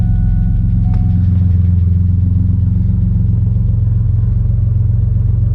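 A 3800 turbo Camaro engine with a new 340 LPH fuel pump runs loud and close, a steady low rumbling idle with an even pulsing throb, a brief starter click near the start.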